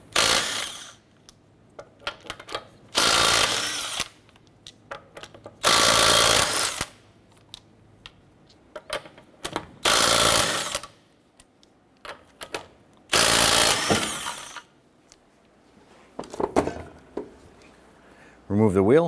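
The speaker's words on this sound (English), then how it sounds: "Using a 19mm socket, let's go ahead and remove our lug nuts" A power tool with a 19mm socket zips off the lug nuts on a 2008–2012 Honda Accord in five loud, buzzing bursts of one to two seconds each, separated by quiet pauses filled with light handling clatter.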